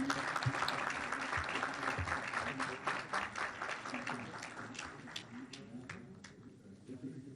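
Audience applause at a Spanish-speaking ceremony as people step forward for photos, a steady mass of claps that gradually thins toward the end, with murmured voices beneath.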